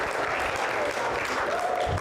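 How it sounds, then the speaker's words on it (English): An audience at an election debate claps steadily throughout, a dense, even wash of applause from a room full of people. "your fans are clapping for you"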